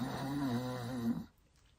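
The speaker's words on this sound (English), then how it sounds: "Is that the bees snoring?" A playful snoring sound standing in for sleeping bees in a bedtime story, a soft, drawn-out rumbling snore held for about a second before fading to quiet.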